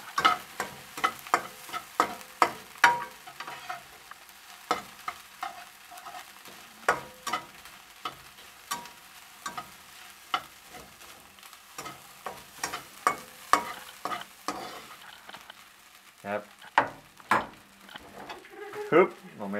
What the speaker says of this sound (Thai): คลุกให้เข้ากันครับ